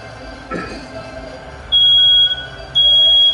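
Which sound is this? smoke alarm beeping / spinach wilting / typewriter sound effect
smoke alarm beeping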